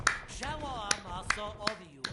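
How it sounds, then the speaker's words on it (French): Sparse, sharp claps from a Fortnite game emote land about every half second, five in all, over a continuous sung voice. "On applaudit!"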